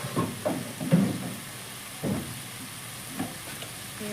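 Spiced masala with salt being sautéed for a stuffed egg omelette curry, a continuous close sizzle broken by several scraping stirs of the spatula, no talk.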